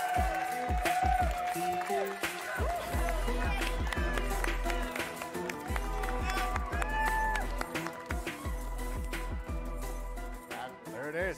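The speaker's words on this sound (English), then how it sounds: "The crowd loves Juju, right?" A crowd at EA Play 2019 cheers and applauds loudly for a Madden NFL 20 presentation, with claps and shouts blending into a sustained roar under a steady musical backing.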